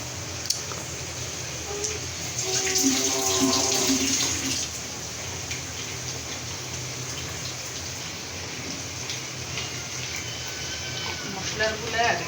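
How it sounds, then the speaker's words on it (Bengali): Water pours steadily from a bowl as it is rinsed of leftover spices into a pot of braising meat, a continuous near splashing stream with some clatter of the bowl, while a voice talks over it. "মশলাগুলো আর একটু পানি দিয়ে বাটিটা ধুয়ে দিই।"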